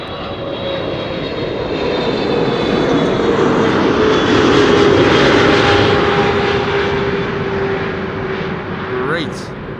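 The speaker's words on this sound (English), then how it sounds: "Listen to the whir of the engines when it passes by." Airliner engines whir steadily as a large jet passes by at an airport, a loud broad roar that swells through the middle and eases off toward the end, with a rising tone sweeping beneath it.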